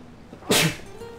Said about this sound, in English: I turned away to sneeze for a second